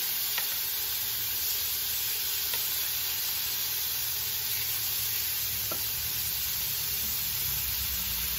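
Shrimp and bratwurst fry in a pan with a steady, close sizzle and hiss, continuous and even throughout, with no talking.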